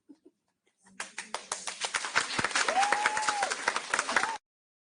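Audience clapping at the closing of an educational seminar: a short burst of applause that builds quickly, holds steady for a few seconds, then stops abruptly, with a faint whistle-like tone over it.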